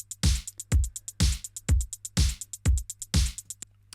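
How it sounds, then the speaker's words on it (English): Simple retro disco drum beat programmed in Logic, with punchy analog-style kicks and snares hitting in a steady, even pattern, bright crisp hits ringing over a low sustained hum, alone with no voices. "I've created this very simple disco-y drum beat"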